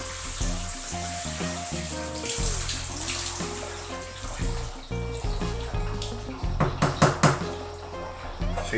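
Water pours into the soil of a potted Pachira aquatica (money tree) and splashes with a trickling, gurgling flow, joined by a few sharper splashes toward the end, over a low background hum.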